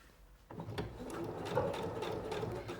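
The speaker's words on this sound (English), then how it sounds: "You can just start sewing." A SINGER Professional 9100 sewing machine stitches along zipper tape, its steady whirring motor starting abruptly and running continuously with fine rhythmic needle clicks, close and alone.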